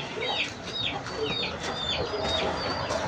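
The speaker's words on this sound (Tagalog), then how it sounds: "Ay, mga manok nandiyan." Chickens cluck and chatter steadily over a busy outdoor background, with a few sharper calls rising above the low murmur.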